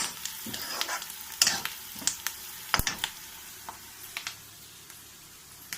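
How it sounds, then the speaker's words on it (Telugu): Ginger garlic paste is stirred into a frying curry of bottle gourd and chana dal, the soft continuous sizzle broken by sharp spoon clinks and scrapes against the pan, near and without speech. "అల్లం వెల్లుల్లి పేస్ట్ కలిపేసుకుందాము."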